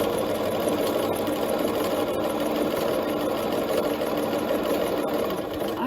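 A sewing machine stitches an invisible hem on a McCall's 8031 garment with a continuous close, even mechanical hum and no pauses.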